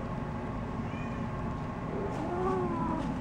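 An unhappy cat meows while being taken to the vet, a few drawn-out, plaintive cries rising over a constant low background rumble.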